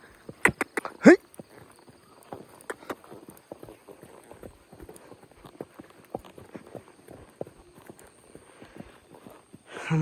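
Horse hooves clip-clop along a forest path, a steady run of light, irregular steps at close range with a few louder knocks near the start.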